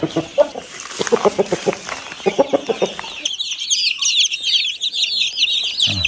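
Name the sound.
chickens clucking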